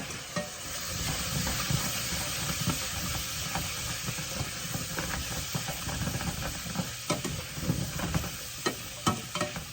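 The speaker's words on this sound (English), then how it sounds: "we're gonna let the garlic and onions and hamburger saute for just a minute" Garlic, onions and hamburger meat sizzle steadily in a pan, with a continuous frying hiss and repeated clicks and scrapes of stirring throughout.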